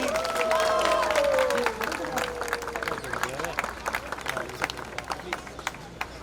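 Applause and crowd noise at a garden beautification inauguration in Juhu, scattered clapping and babble rising after a tonal whistle-like sound fades, with voices talking over the crowd.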